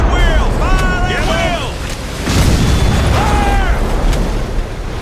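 Cannon fire and explosions in a Civil War video game make loud, rumbling booms with a windy, smoky roar. Voices shout over the blasts.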